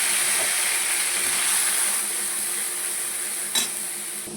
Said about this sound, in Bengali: তেলটা গরম হয়ে গেছে, এর মধ্যে আমি ফোড়নে দিয়ে দিচ্ছি হচ্ছে শুকনো লঙ্কা আর তেজপাতা